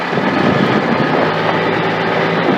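A car engine running steadily on a test drive after reinstalling spark plug wires with spark plug non-foul adapters, producing a constant loud rumble and road noise with no talking.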